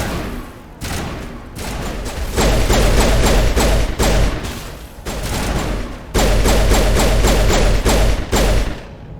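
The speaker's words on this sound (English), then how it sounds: "Press RT to pop up and fire." Sustained gunfire in Mass Effect Legendary Edition, loud rapid bursts of shots in long streams broken by brief pauses, close and dominant with no talking.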